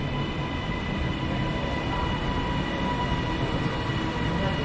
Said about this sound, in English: In comes the 938 to Glasgow Central, 397005.